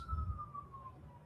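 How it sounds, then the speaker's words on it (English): A faint air-raid warning siren in Israel wails slowly downward, distant and brief, over a low rumbling background. "I can't take the sirens anymore."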